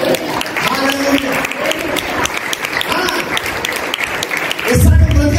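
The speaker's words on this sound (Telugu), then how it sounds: "కొట్టు చప్పట్లు" A church congregation at a morning prayer service breaks into sustained clapping, the applause running steadily for several seconds under a preacher's raised voice.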